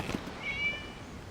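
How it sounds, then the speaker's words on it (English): A cat gives a single faint, drawn-out meow in the video game Genshin Impact, a thin high tone over quiet ambience, with no voices. "It was just a cat"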